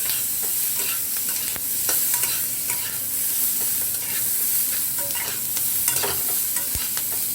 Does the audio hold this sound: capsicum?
yes